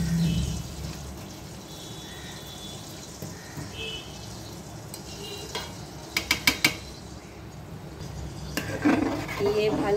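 Fried potato and onion are stirred into a pot of half-cooked rice for khichuri. A steady low sizzle runs under scraping strokes, and a quick series of sharp metallic clinks from the spoon against the pot lands near the end.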